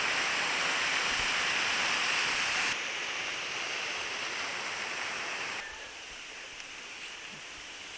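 Cucumber Falls at Ohiopyle pours as a steady, dense hiss of falling water, loud at first and then softening in two stages as the listening spot shifts, with no voices.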